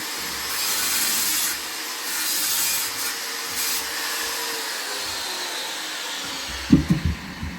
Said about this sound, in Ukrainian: Це чоловік ріже.